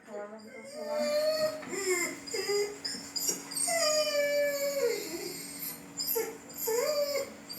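A dog's recorded crying plays from a television, a run of long wavering howls and whimpers that rise and fall in pitch, repeated over several seconds while people talk quietly nearby.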